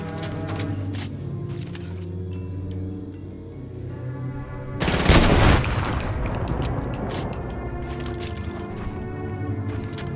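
Gunfire in the video game Fortnite, heard over steady game music. A sudden loud burst of shots and impacts hits midway and then fades back into the music.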